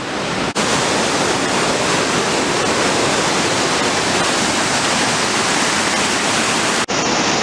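A large stream pours over rocks, giving a loud, dense, unbroken rushing roar close by, with brief dips near the start and end and no voices.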